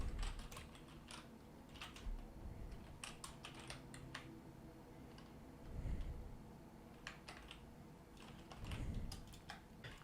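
Steady typing on a computer keyboard while writing a Roblox Studio script, with quick clustered key clicks in bursts and short pauses, fairly close and quiet, with no talking.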